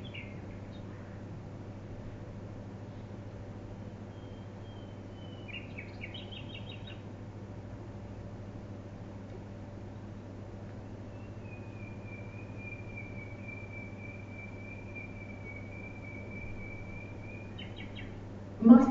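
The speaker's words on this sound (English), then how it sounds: "can you hear the birds singing?" Faint, thin bird calls drift in from a distance over a low steady hum, sparse and high-pitched, with a brief sharper chirp at the end.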